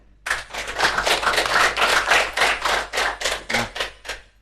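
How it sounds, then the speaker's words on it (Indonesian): Sustained hand clapping from a small group in a podcast studio, dense and steady for about four seconds, fairly loud and close, then thinning out at the end. "Tepuk tangan dong."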